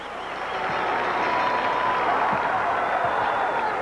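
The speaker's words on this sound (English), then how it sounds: "And here is the bell lap, and listen to the crowd." Indoor arena crowd at a high school two-mile race roaring steadily through the bell lap, a dense, sustained wash of cheering and noise with no individual voices standing out.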